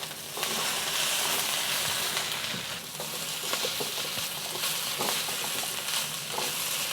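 Green beans tossed back into a hot pan for Malaysian spicy stir-fry, a loud continuous sizzle and hiss with intermittent spatula scrapes and rattles, close and steady throughout.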